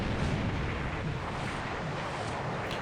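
Big warship guns in War in the Pacific roar in a dense, continuous naval barrage, loud and close, a steady wall of heavy rumbling booms with no talk over it.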